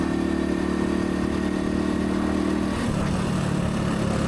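A Honda Cub 90 motorcycle engine drones steadily while riding in traffic, a constant mid-pitched hum with wind rush that shifts tone partway through.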